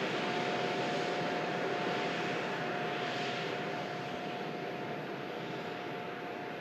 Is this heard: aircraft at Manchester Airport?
yes